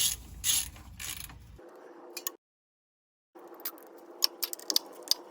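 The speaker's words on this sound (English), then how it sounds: "I'm just going to slowly torque them up" A torque wrench tightening the differential cover bolts on a Jeep JK, giving close, faint ratcheting clicks in short bursts, with a brief silent pause between them.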